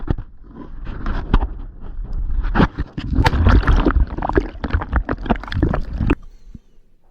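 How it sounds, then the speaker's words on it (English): Small boat rowed in an arc over a Salish Sea anchorage, with close, loud sloshing and gurgling oar strokes in an uneven rhythm, ending in sudden quiet. "I'm going to row it in an arc, basically a circle around where I think the anchors are"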